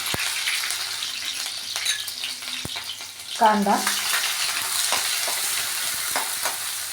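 Onion sautéed in a pan with oil, mustard seeds, cumin, garlic and green chilli, a loud, steady close sizzle with occasional spoon clicks and scrapes, and a brief louder stir midway.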